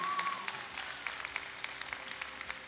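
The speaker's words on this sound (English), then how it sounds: "So give yourselves a huge round of applause" Faint audience applause at a city council meeting, honoring participants of a city weight loss challenge; scattered, thin clapping sounds distant in the room over a steady low hum.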